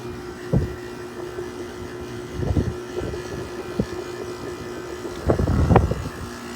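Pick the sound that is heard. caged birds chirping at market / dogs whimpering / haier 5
haier 5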